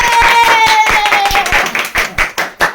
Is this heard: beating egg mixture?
no